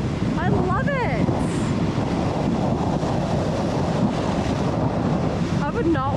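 Ocean waves crash and splash near a Thai beach, a loud continuous roaring wash with heavy wind buffeting the microphone and brief excited voices near the start and end.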